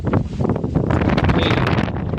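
Strong wind buffets the microphone outdoors beside the Bhadar dam, a loud continuous low rumble with gusty rustling that fills the whole moment without any voices.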